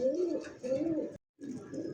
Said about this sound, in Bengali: এক এক করে কবুতর কালেকশনগুলো দেখাই দিই